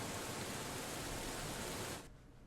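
Steady heavy rain in the Steins;Gate 0 visual novel, a dense, loud, unbroken hiss that drops abruptly near the end.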